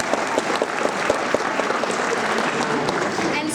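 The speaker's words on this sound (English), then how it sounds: "So, big round of applause to them." Audience claps steadily in a church after a musical performance, a dense, sustained round of applause with individual claps popping through the wash, close and fairly loud throughout.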